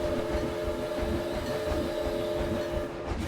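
A steam train in the Planet Coaster video game rumbles with a steady rolling, chuffing drone and a sustained whistle-like tone riding on top, loud and continuous throughout.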